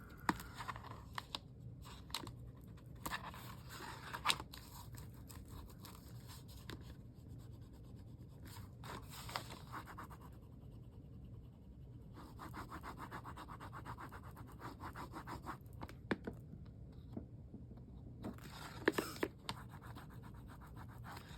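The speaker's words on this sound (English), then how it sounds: "Burnish really well." A paper journal cover is burnished by hand, giving repeated close scratchy rubbing strokes in uneven bursts with brief pauses, fairly faint.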